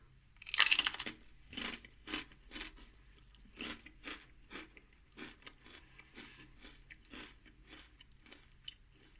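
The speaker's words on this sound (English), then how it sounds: "Let's give it a bite. So these are the Guinness Burts thick cut hand cooked potato chips." Close bites and crunches on Guinness Burts thick cut hand cooked potato crisps: one loud crunching bite, then a series of softer, irregular chewing crunches that fade toward the end, with no talk.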